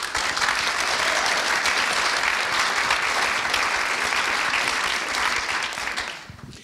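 A large audience applauds steadily and loudly to welcome a panel at an evening public policy event on tax and the economy, the clapping holding dense and even before tapering off at the end.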